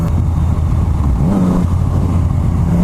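A Yamaha MT09 motorcycle fitted with an Akrapovic carbon full exhaust, baffle removed, rumbles loud and close with a deep engine note that rises briefly in a rev, like a downshift, before settling back.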